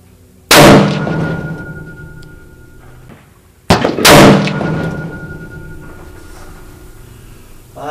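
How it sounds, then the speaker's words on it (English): Two loud rifle gunshots fired at a target on an outdoor range, each a sharp crack followed by a long echoing rumble, spaced about three seconds apart. "Let's shoot some."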